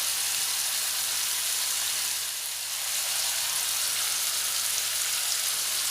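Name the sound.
potatoes frying in a pan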